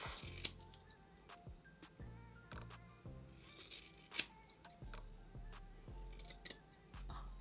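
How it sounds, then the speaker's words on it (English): Scissors cut hair at close range, making repeated crisp, quiet snips in an irregular rhythm with faint metallic clicks between them. "So let's take my scissor. I wanna cut quite a lot off."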